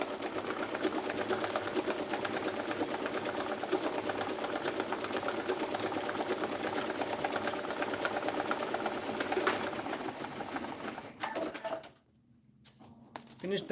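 Embroidery machine stitching an ice cream cone design onto a cap, a steady fast mechanical chatter running continuously up close, then dropping out briefly near the end before starting again.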